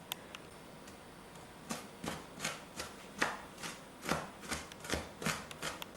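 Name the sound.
chopping onion with a knife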